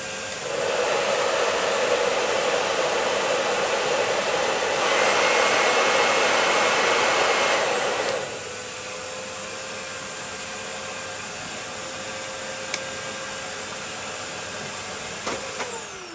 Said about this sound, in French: Donc là, je branche le chauffage.